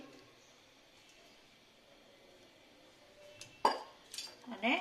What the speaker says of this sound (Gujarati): એક રસ કરી લેશું